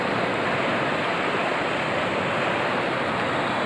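A cold river running high with meltwater at the turn of January into February, a loud, unbroken roar of rushing water close by with no voices.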